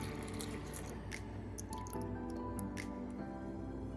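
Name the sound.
plant milk poured onto oats for vegan pancakes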